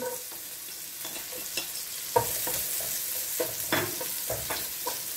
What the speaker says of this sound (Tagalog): Ayan mga idol, medyo brown na yung ating bawang at sibuyas.